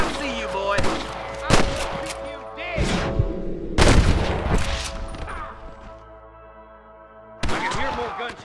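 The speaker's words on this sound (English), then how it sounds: "I can hear more gunshots." Gunfire in the video game Red Dead Redemption: several loud, sharp shots and bursts at irregular intervals, with ringing tails and a rumble between them, mixed with game sounds.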